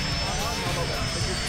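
An airplane roars low over the beach at the end of the Princess Juliana International Airport runway, a steady loud engine rumble heard close up, with people talking underneath.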